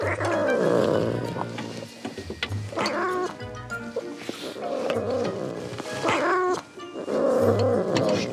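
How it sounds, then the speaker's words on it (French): A frightened female cat being driven out of hiding with a broom yowls, growls and caterwauls loudly and almost continuously, with strained, wavering cries close by. "pour déloger la chatte farouche"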